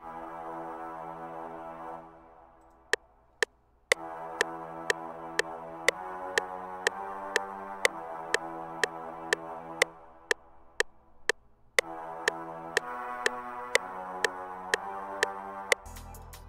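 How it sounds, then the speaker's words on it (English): Horn-like synth preset called CL Grandma's AM radio from Nexus in a beat, sustained chordal tones joined by a crisp repeating percussive tick, moderately loud, alone without talk. "Next, I'm going to Nexus and I grab this little horn sounding thingy."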